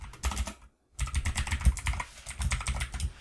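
Quick, rapid keystrokes on a computer keyboard while code is entered, a dense run of clicking taps with a brief pause near the start, then steady typing resumes.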